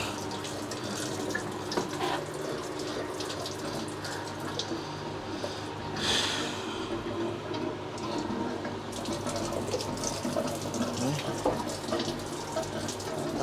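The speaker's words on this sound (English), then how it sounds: "Might be a little bit of water coming out of this one." Leftover water from the air-conditioning units draining out through a hose on a Hatteras GT boat, a steady close trickle and splash running throughout, with a brief louder gush midway.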